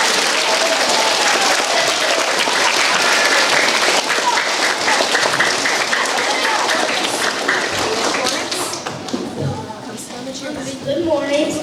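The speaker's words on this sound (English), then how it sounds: "give him a big round of applause" A student audience at a school veterans program breaks into loud, dense applause, sustained and close, with some louder individual claps and thumps, tapering slightly toward the end before swelling again.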